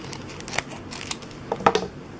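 Scissors snip open packaged ladybug scrapbook embellishments, giving a few sharp, close cuts with light plastic crinkling in between.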